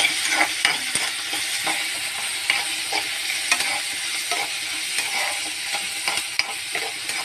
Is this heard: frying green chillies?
yes